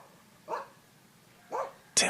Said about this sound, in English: It would bark toward the bed,